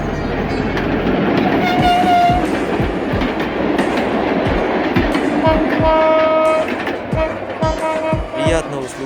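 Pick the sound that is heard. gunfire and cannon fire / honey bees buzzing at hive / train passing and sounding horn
train passing and sounding horn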